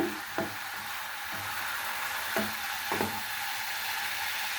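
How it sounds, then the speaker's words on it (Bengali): Cauliflower vegetables frying in a pan on low heat, a steady soft sizzle with a few light clicks of stirring or utensil taps scattered through it. "চুলার হিটটা আমি লোতে রেখেছি, লোতে রেখেই ভাজিটা আমি করে নেব"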